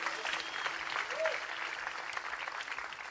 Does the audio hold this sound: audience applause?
yes